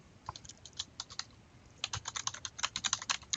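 Typing on a computer keyboard, a quick run of light key clicks that pauses briefly and then speeds into a denser, slightly louder burst, close and alone.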